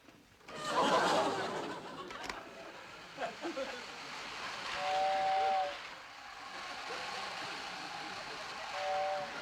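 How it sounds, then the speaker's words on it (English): A toy electric train in a 1950s–60s sitcom scene gives short, faint steam-style whistle toots, two brief tones spaced apart, amid rattling, bumps and room noise. "I'll play with my own electric train."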